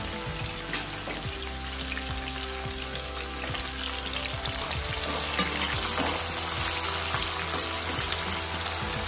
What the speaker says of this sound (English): So first I'm gonna put my peppers in.